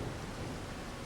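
Rain with thunder in Farming Simulator, a dense, loud broadband hiss of rainfall with a low rumbling undertone, continuous and steady with no pauses or voices.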